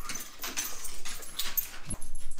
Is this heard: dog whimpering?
yes